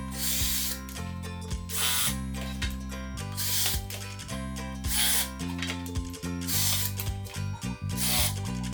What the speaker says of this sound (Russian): Сверлим по разметке отверстия в доске.